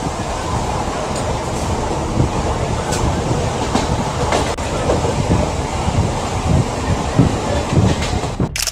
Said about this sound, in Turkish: Videoda iki tren birbirine oldukça yakın şekilde yüksek hızla ilerliyor.